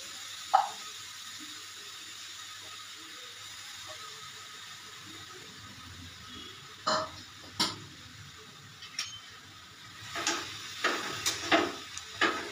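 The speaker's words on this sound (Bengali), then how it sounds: "কড়াইতে 1 চামচ ঘি দিয়ে দিলাম, দিয়ে এইবারে গাজরটা দিয়ে দিচ্ছি। গাজরটা ভেজে নেব।" Grated carrot fries in a spoonful of ghee in a kadai for carrot halwa, a soft background sizzle broken by sharp scraping and clinking stir strokes that grow more frequent toward the end, with no talking.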